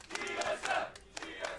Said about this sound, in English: Looks like the crowd voting with the chant.